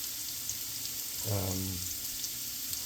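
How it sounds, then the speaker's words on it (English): Bacon sizzles in a skillet as a steady, soft hiss, with one brief tonal sound rising in the middle of the short stretch. "Bacon goes in first."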